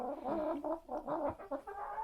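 Chickens clucking close by in a steady run of short, overlapping calls over about two seconds, with no talking.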